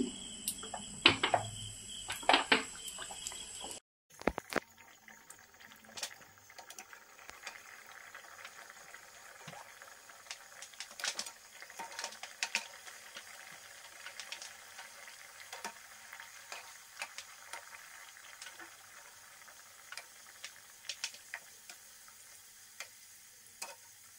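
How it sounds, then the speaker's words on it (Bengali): Pieces of khaja dough frying in hot oil with a spoonful of ghee: a louder burst of sizzling at first, then a steady, softer crackle and bubbling with scattered pops, no voices. "তেল গরম হয়ে গেছে, এবার আমি এক এক করে ছেড়ে দিচ্ছি।"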